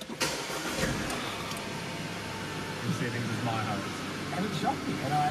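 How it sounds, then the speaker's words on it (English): A 2010 Audi A5 2.0 TFSI with low kilometres starts by push button; the engine catches after a brief crank and settles into a steady, fairly loud idle heard close from inside the cabin. "And start the car."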